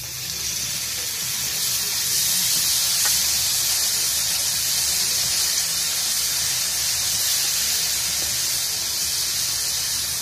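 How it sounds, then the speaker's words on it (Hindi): Chopped tomatoes fry in hot masala in a pan, giving a steady, loud, hissing sizzle that holds evenly from start to finish with no talking. "और इनको अच्छे से सोटे करेंगे।"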